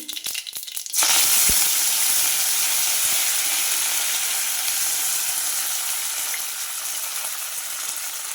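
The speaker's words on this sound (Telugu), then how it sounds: "కరివేపాకు కూడా వేగింది కదా" Curry leaves drop into hot oil with a sudden loud burst of sizzling that settles into a steady, close frying hiss and slowly eases off.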